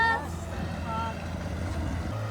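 A 15 horsepower outboard engine pushes a loaded boat toward a remote village, a steady low motor drone with wind and water noise, running continuously close by.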